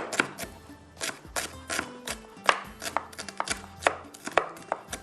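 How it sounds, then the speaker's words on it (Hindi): Onion being finely chopped with a knife on a board for a Hyderabadi curry, rapid sharp taps in an uneven but quick rhythm, close and clear with no talk. "इसको थोड़ा बारीक चॉप करेंगे"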